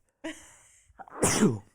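A single close, sharp human sneeze, preceded by a short drawn-in breath and ending in a loud burst, with no other talk around it.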